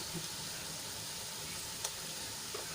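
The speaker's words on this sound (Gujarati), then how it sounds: "મસાલા આપણા સરસ રીતે તેલમાં સંતળાઈ જાય" Spices and salt sauté in hot oil for a fasting-day moraiya khichdi, making a soft, even sizzle close by with a couple of brief clinks from stirring.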